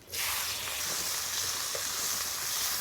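Chopped onion goes into hot oil already tempered with nigella seeds and dried red chilies, where fish heads were fried, and bursts into a loud, close, steady sizzle that hisses on without pause.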